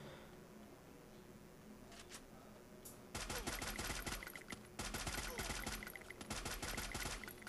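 Rapid video game gunfire during an M1014 shotgun match, dense bursts of shots in two long stretches over a constant background hiss, fairly loud and without talk.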